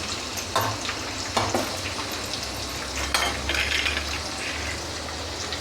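Sabudana khichdi mixture with added salt stirred in a pan, a steady sizzling fry with scraping spoon strokes and occasional clinks of utensil against the pan, continuous and fairly close with no talking.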